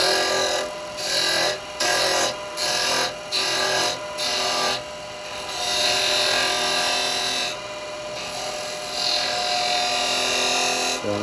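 A woodturning tool slicing into a wooden candlestick spinning on a lathe, a loud close rasping hiss that comes in repeated short bursts, then settles into a longer steady cut.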